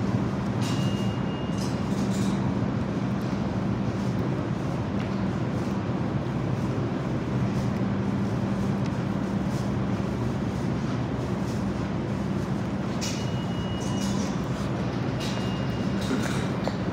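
A subway train at Flatbush Avenue–Brooklyn College station in Brooklyn gives a steady loud rumble and hum with squeals and brake hiss, no voices.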